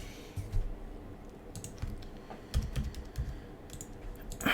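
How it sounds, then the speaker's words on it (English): Someone types on a computer keyboard while coding a Java program, producing quiet, irregular bursts of clicks and keystrokes at close range with no voices. "Okay, here let's type it again."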